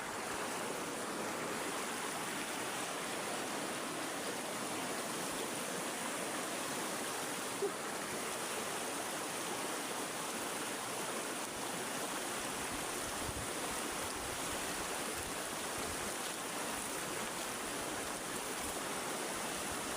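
Steady rushing water of a flowing mountain stream, a continuous broadband wash with no voices, even in level throughout.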